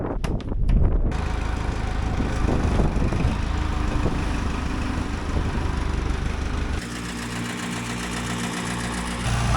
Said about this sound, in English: we're gonna hook the little International into our blower just to get some fresh air up there